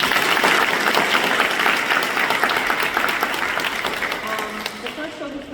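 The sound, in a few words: applause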